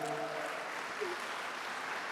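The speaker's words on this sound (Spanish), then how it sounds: "Y ahora un aplauso más fuerte para las esposas que los levanten a tiempo." A church congregation claps for the wives, a steady, moderately loud wash of applause from many hands, with a faint voice at the very start.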